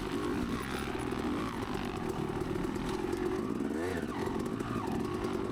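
Dirt bike racing through a muddy hare scramble course, its engine droning loud and close throughout with a brief dip and rise in revs near the end.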